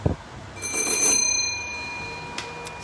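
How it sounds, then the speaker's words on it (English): An old original mechanical doorbell in a historic house rings with a bright metallic chime that lingers and fades, followed by a faint second ding; no speech. "With the original doorbell."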